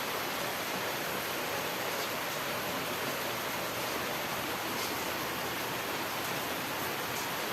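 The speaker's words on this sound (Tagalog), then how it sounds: "umapata na naman ang ulan sa bubong na" Steady rain drums on a house roof during a typhoon, a dense, even hiss with no pauses, fairly loud and close, with no talking over it.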